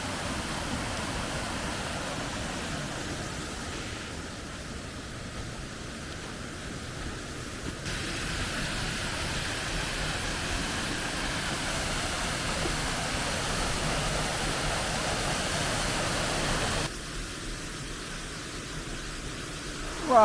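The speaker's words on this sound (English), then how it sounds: "we've made it to our first waterfalls that we're going to actually capture an image of" Steady rush of a waterfall heard from nearby in a landscape setting, a continuous broadband roar with no talking.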